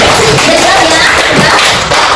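Students in a classroom clap for a presenting group, a loud, close, continuous patter of hands filling the short moment.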